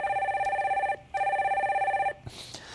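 A telephone rings on a call-in stock market broadcast, two long electronic bell bursts separated by a short gap, loud and close, followed by a faint click as the line connects.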